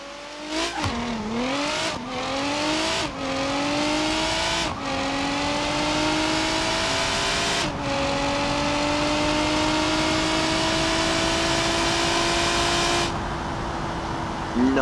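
A drag car in the BeamNG.drive video game launches and accelerates hard, engine revving up through several quick gear shifts into a long, steady high-speed drone, loud and continuous with no talking.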